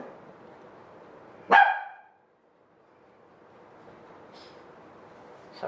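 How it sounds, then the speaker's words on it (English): A small dog gives a single sharp yap in the background, one loud brief bark standing out against a quiet room tone. "Sorry about my dog doing a yap in the background."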